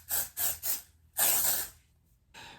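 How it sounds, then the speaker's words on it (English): An aerosol hairspray can sprays onto hair in three quick close hisses, then one longer burst and a final short spray, each loud and crisp against near silence. "with aerosol cans, you spray from underneath"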